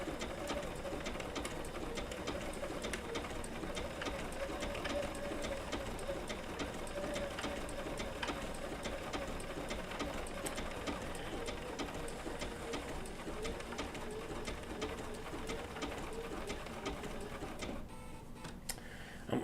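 A Bernina B790 PRO sewing machine stitches wool applique with a steady, fairly quiet mechanical whir and fine rapid ticking that runs continuously before cutting off near the end.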